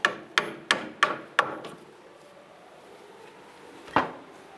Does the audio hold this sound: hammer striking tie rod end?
yes